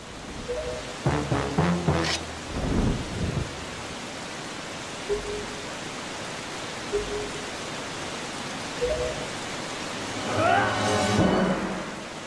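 Heavy rain and rolling thunder in a scene from The Legend of Zelda, with loud booming crashes early and near the end over a constant hiss of downpour.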